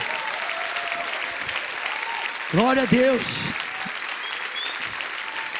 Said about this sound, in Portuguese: Vamos aplaudir essas pessoas aqui, irmãos, por favor.